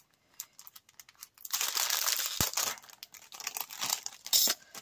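Crinkly plastic AliExpress packaging is torn open and handled up close, with bursts of crackling and rustling that start softly, then grow dense and loud.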